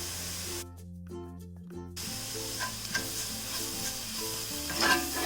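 Yam tossed with turmeric, garam masala and Kashmiri chili powder stir-fries in a pan, a quiet steady sizzle with occasional spatula scrapes beneath a background of soft music.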